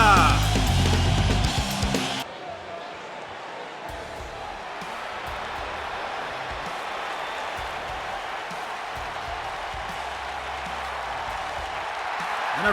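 Arena crowd in the WWE 2K19 wrestling video game erupts in loud applause and cheering for about two seconds, then settles into a quieter, steady crowd murmur under a commentator's voice.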